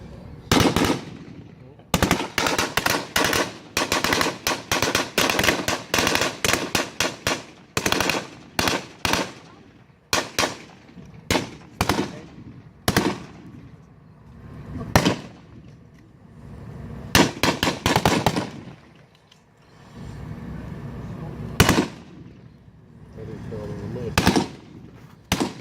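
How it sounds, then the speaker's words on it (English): AK-47 rifles fire at a Vietnam War reenactment in loud, close bursts of rapid automatic gunfire, repeated over and over with short pauses between volleys and some quieter gaps. "You can hear that, the cadence of the firearms the VC are using. It's an AK-47"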